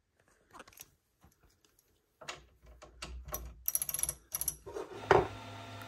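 Ratcheting clicks of a socket wrench tightening a bolt on an MPCNC machine's trucks and core, a quiet scattered series of close mechanical ticks and turns that grow busier and louder toward the end.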